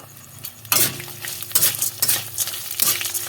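Washed curry leaves and garlic cloves fry in a pan for an idli dish. A loud crackling sizzle is broken by repeated bursts of spatula scraping and stirring against the metal.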